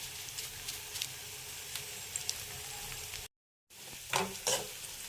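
Carrots and beans sautéing in a pan, a steady close sizzle with soft stirring scrapes, briefly cut out partway, then returning with a couple of louder stirring knocks.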